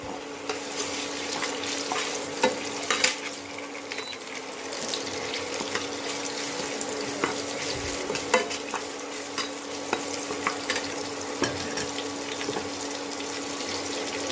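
Ginger paste frying with chopped onions in oil, stirred steadily in the pan, a continuous sizzle with scraping and clinking of the spoon throughout, close and fairly loud, with no talk.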